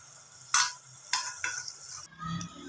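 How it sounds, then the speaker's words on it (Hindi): Ground onion and ginger-garlic paste fry in oil with a low sizzle, while a spoon scrapes and stirs the pan in a few sharp, close strokes. "प्याज को और अदरक लहसुन को अच्छे से हम 2-3 मिनट के लिए भून लेंगे।"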